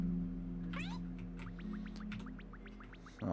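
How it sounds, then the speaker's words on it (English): Small cat meowing in the Yume Nikki fangame .flow, a series of short, bright repeated mews over a steady low game-music drone, fairly clear and with no talking. "Oh, I'm a little cat."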